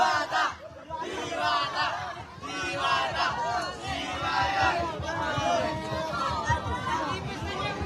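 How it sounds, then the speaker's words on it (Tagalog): A large street crowd in Malabon shouts and cheers for a performer named Diwata, a continuous roar of overlapping voices, whoops and chanting that stays loud and dense throughout. "Pakinggan nyo yung mga hiyawan."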